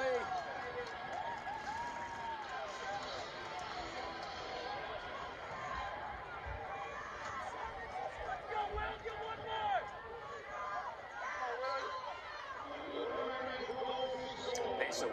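Crowd at a men's lacrosse game between Notre Dame and Duke cheers and roars in a steady wash in the background, under continuous excited commentary from a broadcaster.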